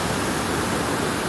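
A river with small waterfalls rushes in a steady, dense roar, loud and close, with no breaks and nothing else audible over it.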